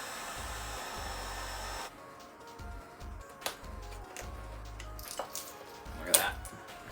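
A heat gun's steady whooshing blower noise runs alone, low and even, heating a carbon fiber skate boot toe, with a few sharp clicks and a brief scraping crackle near the end.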